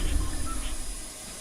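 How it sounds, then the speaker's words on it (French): A vacuum cleaner runs in a room, a steady broad whooshing drone with low rumble that eases slightly toward the end, with no clear speech over it. "On va devoir faire avec l'aspirateur les amis."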